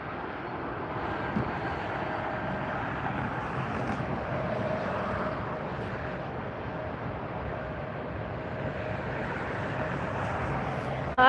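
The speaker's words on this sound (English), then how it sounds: "let's get a look at what's taxiing up here." Airplane taxiing at LAX, a continuous broad jet-engine roar with a steady droning hum, heard from nearby at an even level throughout and with no talking.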